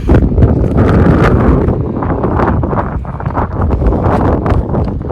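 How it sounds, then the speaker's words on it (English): Strong gusty wind buffets the microphone near the Rio Grande Gorge Bridge in New Mexico, a loud, continuous rumbling roar with surging gusts throughout and no voices. "The wind was down a minute ago. Now it just picked up."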